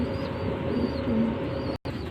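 A pigeon coos softly in a low repeated purr, close by, over a steady background hum, with a brief dropout near the end.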